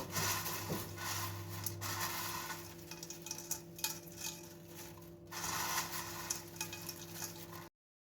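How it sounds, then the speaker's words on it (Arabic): Crispy deep-fried onions being stirred and tossed in an aluminium strainer: a continuous close scraping rustle of brittle crunching pieces with light clinks, steady throughout and without speech. "هسمعكم دلوقتي صوت القرمشة بتاعته، حاجة كده جامدة جدا"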